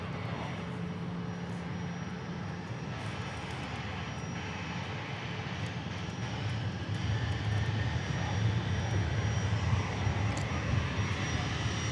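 Airliner departing Dallas Love Field, a continuous jet engine roar that swells louder toward the end, with a person talking over it.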